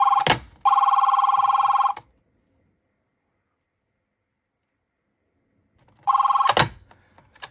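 AT&T 213 Trimline telephone electronic ringer, a loud warbling trill burst after a click, then several seconds of silence before another trill begins with clicks, heard close.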